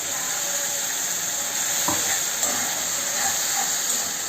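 Spice paste sizzles in hot oil with browned onion and tomato in a pan for a prawn curry, a steady bright frying hiss with occasional soft pops and stirring scrapes, no voices.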